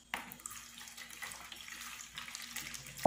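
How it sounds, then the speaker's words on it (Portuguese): Warm water poured from a cup into a bowl for homemade cinnamon bread dough, a steady splashing stream lasting about three seconds, close and moderately loud, with no talking. "1 xícara de água morna."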